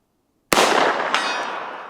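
A single rifle shot fired with iron sights at a 100-yard target outdoors, a sharp loud crack breaking silence, followed by a faint distant impact or echo and a lingering fading rumble.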